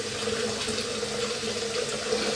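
Hot tap water runs steadily into a vessel to fill sparge water for homebrewing a honey tripel, a continuous close splashing hiss with a faint tonal hum throughout, no speech.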